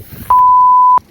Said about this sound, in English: I'm trying to do a video and the siren comes on.